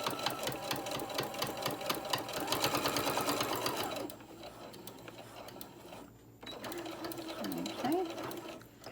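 A sewing machine stitches a small fabric tote bag, its rapid needle clatter loud and rhythmic for about four seconds, then running softer and intermittently while a voice speaks briefly near the end.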